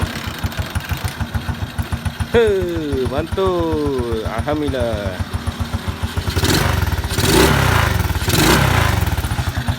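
A Kriss 110 motorcycle with a newly swapped auto clutch housing starts up, its small engine catching and revving in several rising bursts before settling into a steady, close idle, with someone talking over it.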